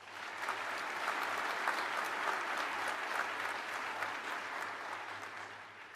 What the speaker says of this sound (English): Please give all of our special guests a warm round of applause.